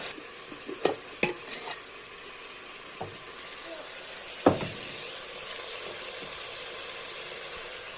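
Whole spices fry in a pan with a soft, steady sizzle, punctuated by a few clinks and stirring scrapes, fairly quiet and with no talking.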